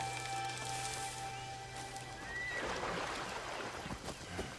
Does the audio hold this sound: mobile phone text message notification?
no